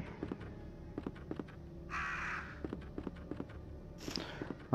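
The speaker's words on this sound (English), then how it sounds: "Oh, there's some more crows." Two harsh crow caws ring out over a series of steady, close footsteps in the video game Resident Evil 2, the calls short and separated by a couple of seconds.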